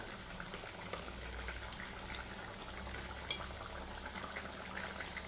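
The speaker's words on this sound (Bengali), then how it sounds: "এই যে ঝোলটা কিন্তু ফুটে আসছে" Fish curry broth comes to a boil in a pot, giving a steady, soft bubbling hiss that stays even throughout, with no voices.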